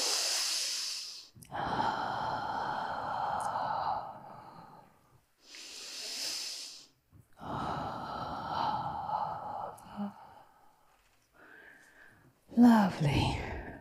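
Deep, slow breathing during a group stretching exercise: long audible inhales and exhales alternate with brief silences, close and soft, with a short vocal sound at the end.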